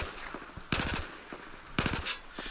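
Two quick bursts of automatic gunfire in the game Battlefield 4, each a tight rattle of four or five close, sharp shots, with faint softer shots between them.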